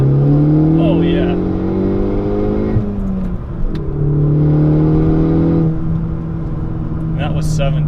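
A 2016 Ford Focus ST hot hatch pulls hard through second gear, its engine note climbing steadily before a brief shift break, then rising again, loud and close from inside the cabin under intermittent talk.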